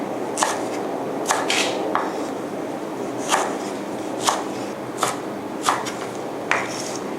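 Knife slices thudding on a cutting board as lemongrass is cut diagonally, about ten crisp cuts at a loose, uneven rhythm, close by, with no talking.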